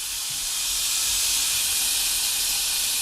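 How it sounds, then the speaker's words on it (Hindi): Water poured into a hot pan of sweet zarda rice, degi style, sends up a continuous loud hiss of steam that fills the whole stretch steadily, with no talk. "थोड़ा सा बस पानी डालना है, ऐसे पानी डाला और साथ ही इसके ऊपर ढक्कन रख देना है।"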